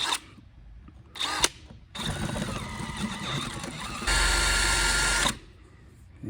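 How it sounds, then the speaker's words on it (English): Power drill boring out old threads in an aluminum hatch on a 1984 Chris Craft Catalina 381 boat, in short whirring bursts with a steady stretch and a louder, harsher final run near the mic. "All right, the old thread's drilled out."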